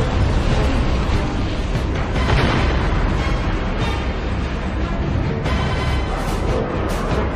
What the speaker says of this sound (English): Three huge explosions light up the sky.